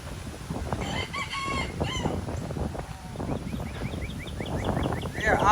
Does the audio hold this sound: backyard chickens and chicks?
yes